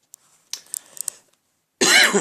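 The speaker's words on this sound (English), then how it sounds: "Sorry for the coughs." A person coughs, close and loud: a few small dry coughs and throat sounds, then one harsh, forceful cough at the end.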